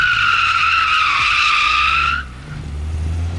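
Tires squeal in a loud, sustained screech as a car drifts during a driving school lesson, the shriek fading after two seconds into the low rumble of the engine.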